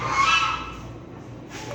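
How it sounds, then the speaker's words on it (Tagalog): A goose at a zoo honks loudly and nearby in a brief burst, then fades into a quieter background with some faint noise toward the end. "Gansa."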